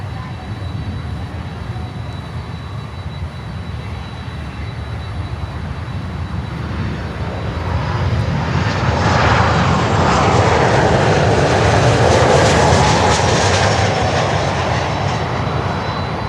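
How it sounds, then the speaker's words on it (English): A United Boeing 737 MAX 9 airliner inbound from Denver rumbles steadily, its broad engine roar swelling louder midway as it draws nearer, with faint voices now and then underneath. "Next inbound is United 737 MAX 9 from Denver."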